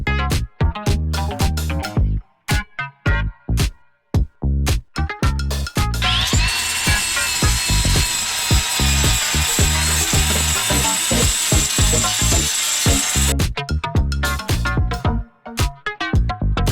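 A power drill runs almost continuously while holes are bored through a metal oil catch can baffle for a KE70, its motor whining loudly with rapid stuttering bursts and a long steady grinding stretch in the middle.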